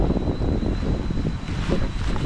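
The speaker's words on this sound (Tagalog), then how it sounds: "Ewan ko ba bakit biglang lumakas ang hangin dito sa area na ito." Strong wind rushes steadily across a remote campsite in Malico, a continuous loud, blustery roar buffeting the microphone without letup.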